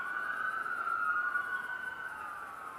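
Ambulance coming down the road with its siren sounding, a sustained wailing tone that wavers slightly, moderately distant and steady over soft background hum.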